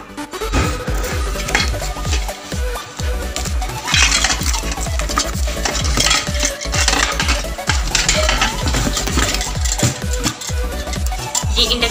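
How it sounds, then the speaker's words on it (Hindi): Metallic clatter and knocking from handling a Milton induction pressure cooker (cooker-handi) with an induction plate on its base, a busy run of close clinks and taps that continues steadily with no talking. "तो ये इंडक्शन कुकर है, ये है मिल्टन का, इसे कुकर और हांडी भी बोलते हैं।"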